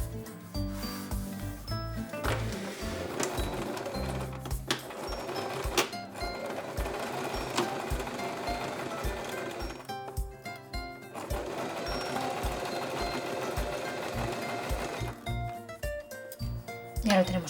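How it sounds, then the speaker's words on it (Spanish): A sewing machine stitches a seam on a wizard costume at a one-centimetre allowance, running in long loud continuous stretches with brief pauses between bursts, close up throughout. "Y cosemos a 1 centímetro de margen de costura."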